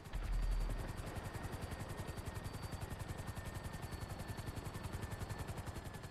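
A helicopter in GTA Online's Cayo Perico Heist, damaged after slamming into a building, gives off a fast, steady rotor chop that pulses evenly and loudly throughout.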